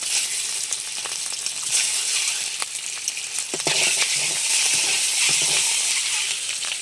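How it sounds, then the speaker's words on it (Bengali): Loud, continuous hissing and crackling of eggs frying in a little turmeric-spiced oil in a wok, with occasional sharper pops and spatters. "এ পাশে কড়াইতে একটুখানি তেলে হলুদ দিয়ে আর ডিমগুলো ভেজে নিচ্ছি"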